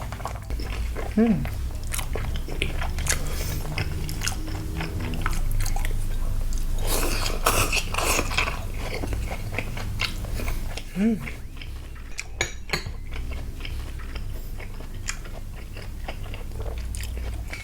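Biting and chewing on raw Korean beef strips, wet crunchy mouth sounds close up and fairly loud, repeating through the clip with occasional cutlery clinks and brief background talk.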